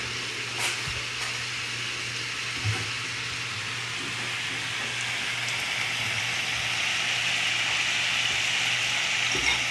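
Bacon fries in a pan with a steady, dense sizzle and crackle, continuous and close, with a low hum underneath and a few sharper pops.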